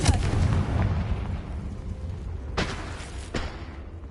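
A Confringo fire spell blast in Hogwarts Legacy: a rumbling explosive burst at the start, then two short sharp cracks later, with no voices.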